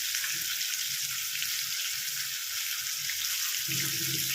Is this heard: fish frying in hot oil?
yes